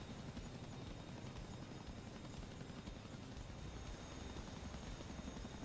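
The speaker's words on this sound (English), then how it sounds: "Interested to know what the Chinook is carrying." A Chinook helicopter flies in a multiplayer military video game set in Syria, its rotor roar a steady, dense wash of noise that holds an even level throughout, with no one talking.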